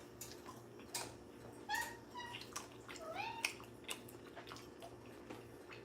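A cat lets out several short, rising meows in bursts across a few seconds, fairly close, over a steady low household hum with faint clicks and rustles.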